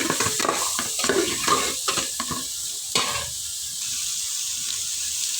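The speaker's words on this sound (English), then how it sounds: "So at this point I add my salt and then I'll stir it for a little while." A spatula stirs Nigerian fried rice in a pot, giving close scraping strokes over a frying sizzle. The stirring stops after about three seconds, and a steady hiss continues alone.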